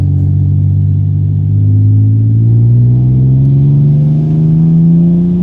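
Ford Mondeo ST220 V6 with a stainless steel exhaust, new flexi pipes and decats, heard from inside the car with windows up while cruising, a loud smooth droning rumble that slowly rises in pitch as it pulls.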